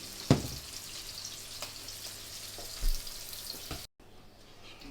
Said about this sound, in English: while we're caramelizing the mushrooms and the onion